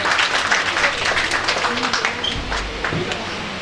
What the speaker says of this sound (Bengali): একটু জোরে হাততালি দিলে ভালো